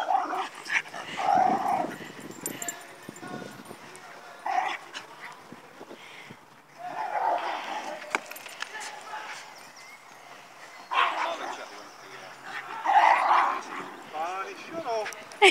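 A dog barks, yips and growls in several separate bursts spread across the stretch, fairly close, with people talking around it.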